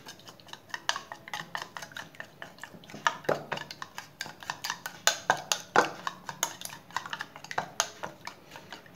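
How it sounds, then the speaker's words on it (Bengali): An egg with a little salt beaten in a bowl, a fast, steady run of bright clicking taps from the utensil striking the bowl's sides, close and continuous with no talking. "ডিমে দিব সামান্য পরিমাণে লবণ"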